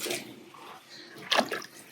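Water poured into a 3D-printed concrete swimming pool structure for curing makes short splashing, gushing bursts, the strongest surge coming late in the brief moment.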